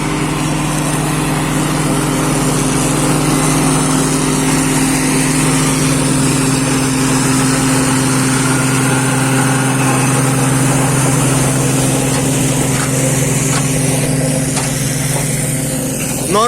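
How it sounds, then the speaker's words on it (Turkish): A Massey Ferguson 398 4WD tractor engine drones under load at about 1000 rpm, a constant pitch, loud and close, with a low hum and mechanical rattle running throughout. "Traktör de gayet güzel yiyor arkadaşlar şu anda bin devire göre."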